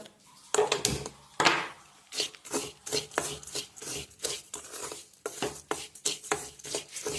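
Hand mixing of ghee scrapings and khoa for pinni in a pan, steady close scraping and rubbing strokes in an uneven rhythm, moderately loud with no talk over it.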